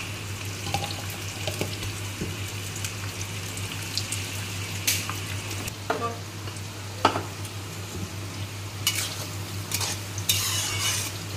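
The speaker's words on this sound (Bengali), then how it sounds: "পেঁয়াজটা ভাজা হয়ে গেছে।" Chopped onion frying in oil in a pan for a chicken curry, a steady close sizzle with scraping stirs and occasional clinks of a utensil against the pan.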